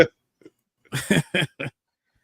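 A soundboard burp effect: a few short, guttural belching bursts in quick succession, loud and close, with a faint blip just before them and silence around.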